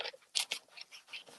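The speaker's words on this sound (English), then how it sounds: "So let's do some cutting." Scissors snip through paper card while cutting out a turtle or tortoise stamped image for a handmade card, with several short crisp cuts close up at an uneven pace and no talking.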